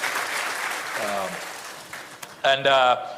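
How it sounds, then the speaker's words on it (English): Applause at a diplomatic conference of heads of mission and envoys in Ghana, a soft spread of clapping for the first half, after which a voice speaks over a thinning room. "He deserves a round of applause."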